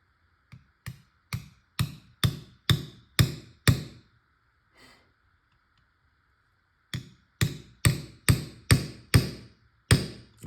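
Sharp metallic taps of a small hammer on a pin punch, in two quick bursts of about six strikes each with a pause between, close and clear, while working on a Tippmann TIPX paintball pistol.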